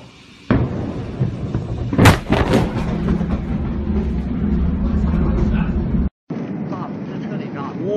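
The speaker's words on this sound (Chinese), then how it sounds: "什么玩意儿爆炸了呀？" Night-time industrial warehouse explosion in Tianjin, heard as a sudden deep boom followed by a sharp blast and a long, heavy rumble. Excited voices cry out over the rumble.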